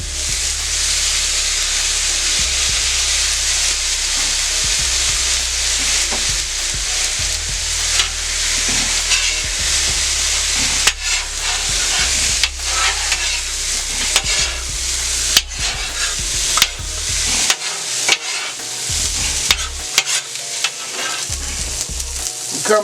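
Fried rice with soy sauce on a Steelmade hibachi grill, a loud continuous sizzle and steamy hiss close up, broken by sharp metal spatula scrapes and clanks that grow more frequent toward the end.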